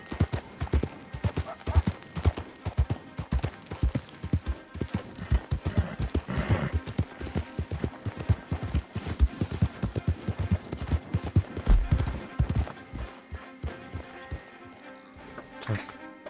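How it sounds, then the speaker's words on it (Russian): Horse hooves clip-clop in a steady run of sharp, close thuds in the video game Red Dead Redemption 2 as the horse arrives, then slow and fade near the end. "Потому что моя лошадь приехала."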